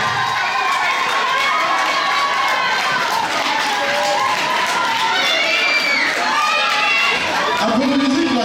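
Audience at the Miss Cameroun Suisse 2016 pageant final, a dense, loud roar of cheering and shouting voices from a crowd that runs unbroken throughout.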